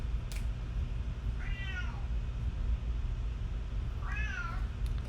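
A house cat meows twice indoors, two clear drawn-out cries a couple of seconds apart over a steady low room hum, with a small knock just before the first.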